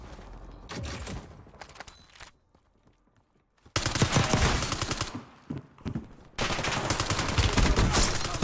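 Video-game gunfire in loud, dense bursts of rapid shots, a near-silent lull in the middle, then sustained heavy firing resuming to the end.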